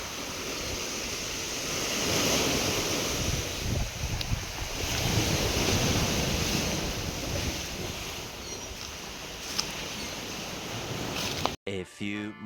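Sea waves washing onto a shore, a continuous broadband surf roar with gentle swells and steady wind buffeting the microphone, ending abruptly.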